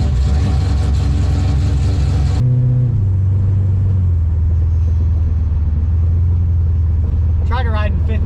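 Engine on a motorcycle with an oil leak fix and a fuel system mod, rumbling loudly and steadily at close range. An earlier burst of revving drops to a deep, even idle, with a short whine near the end.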